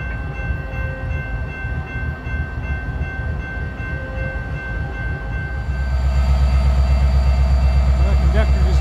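A train engine in West Virginia idles with a steady low rumble and a faint tonal whine, then swells louder and heavier toward the end, with a voice heard faintly.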